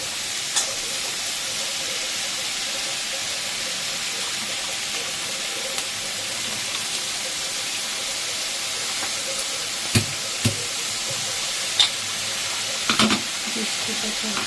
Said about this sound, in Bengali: এই যে মা শাক পাতাটা দিয়ে দিল।